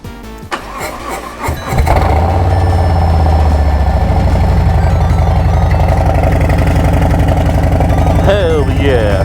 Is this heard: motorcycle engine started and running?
yes